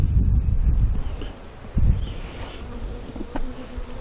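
Honey bees buzz loudly and close by at a beehive, a dense droning hum with brief gusts of rustling noise.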